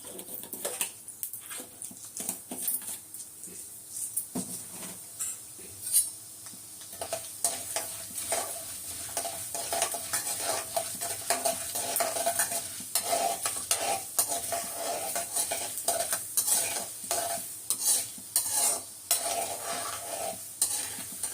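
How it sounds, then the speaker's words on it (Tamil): Mustard seeds spatter in hot oil as tempering for a greens stir-fry, a steady crackling sizzle with scattered sharp pops and occasional stirring clinks running throughout. "இப்போ எண்ணெய் காஞ்சிச்சு, கடுகு போட்டுக்கிறேன்"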